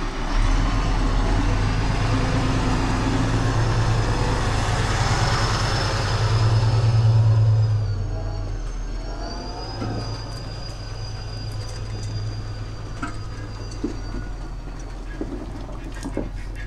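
Black Fendt tractor towing a slurry tanker onto a field, a steady deep engine drone with rumbling and clanking, loud and close at first then easing as it moves off, with a thin whine above.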